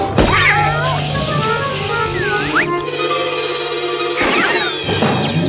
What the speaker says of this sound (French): Ce chat est un vrai chien de garde.